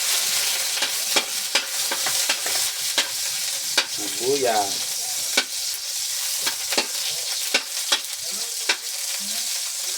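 Garlic and onion sizzle in hot oil in a pan for a pinakbet vegetable dish, a steady loud frying hiss broken by repeated sharp scrapes and clinks of a stirring utensil.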